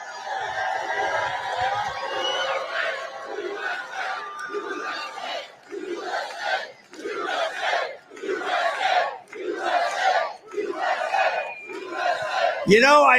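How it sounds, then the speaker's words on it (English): Large outdoor rally crowd at an airport hangar with Trump in Michigan, cheering and chanting in loud rhythmic surges that rise and fall about every second, a roaring mass of voices heard alone. "This is a hell of a crowd."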